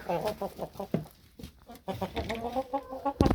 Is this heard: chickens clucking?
yes